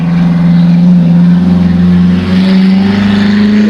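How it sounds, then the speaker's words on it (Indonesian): A car drives uphill along a village road near the elephant statues of Kampung Gajah, Bandung, its engine humming steady and fairly loud throughout with no talking. "Kita tunggu mobil dulu lewat ya."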